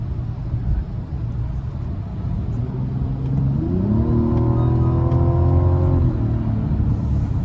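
A 2025 Mazda CX-70 Turbo S Premium Plus accelerates, its turbo engine rising in a steady climbing drone over road rumble. Heard from inside the cabin, moderately loud and continuous, with no talking.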